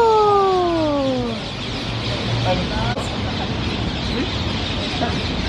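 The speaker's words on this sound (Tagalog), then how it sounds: "Ayan, oh, itong puno na yan, maraming papagay." A flock of parrots calling from a tree: a few sliding, descending squawks at the start, then a noisy outdoor wash with scattered fainter calls.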